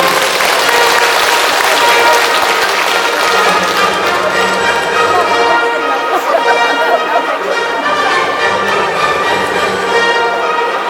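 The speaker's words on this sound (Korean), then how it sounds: "여러분 박수 한번 보내주시기 바랍니다." Steady applause from an audience fills the whole stretch, dense and continuous, with a faint murmur of voices underneath.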